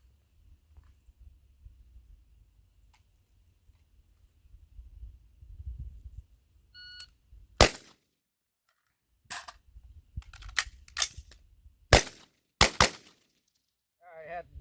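AR15 rifle shots fired at targets: a series of sharp, loud single cracks spaced a second or two apart, with a few faint clicks before them and a low outdoor rumble early on.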